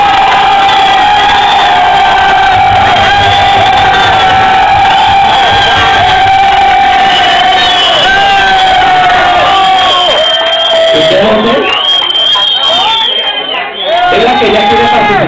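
A crowd at a Halloween costume contest in Duitama, Boyacá, cheers and shouts loudly and continuously, with children's shrieks and whoops mixed in. The roar dips and surges again near the end.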